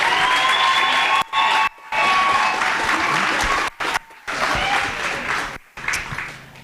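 An audience applauds a panel at an entrepreneurship school event, dense sustained clapping with some cheering and crowd noise, loud and continuous with a few brief dropouts.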